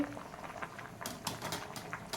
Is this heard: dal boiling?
yes